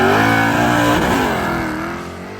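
A drag race car makes a test hit at KD Dragway, its engine roaring loud and close with a rising harmonic whine before the sound tapers as it pulls away down the strip.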